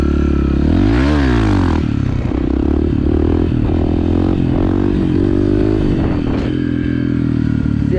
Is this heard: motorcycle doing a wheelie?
yes